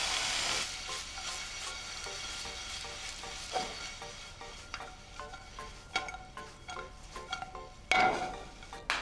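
Garlic hits a hot omelette pan, giving a steady close sizzle with occasional scraping stirs and light clinks of utensil against the pan.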